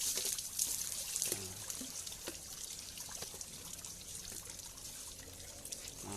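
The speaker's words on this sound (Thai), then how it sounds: "อาบน้ำเย็นๆน้องเล่นน้ำไปก่อนนะครับ" Water trickles and splashes steadily as an elephant bathes on a hot day, a continuous close liquid dribble with occasional louder splashes and no talk.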